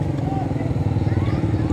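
Group of about sixteen trail motorcycles riding together, a dense continuous engine rumble close by, with voices talking over it.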